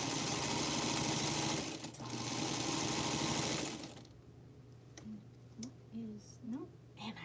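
A sewing machine runs a steady, fast stitch along a scant-allowance seam on a Feathered Star quilt block for several seconds, then cuts off, leaving a voice talking over light clicks and handling.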